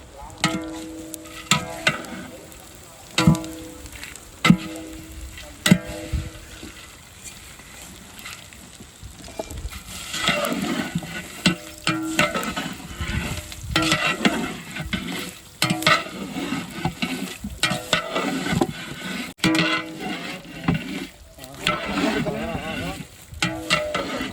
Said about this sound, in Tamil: இந்த நெத்திலி கருவாடு இந்த எண்ணெயிலேயே நல்லா வறுபடணும்